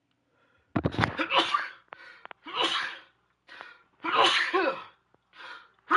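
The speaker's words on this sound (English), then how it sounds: "Best way to start is by sneezing my brains out." A streamer sneezes hard several times in a row while playing Killer Frequency, with short pauses and breaths between the loud, close bursts and a brief spoken word.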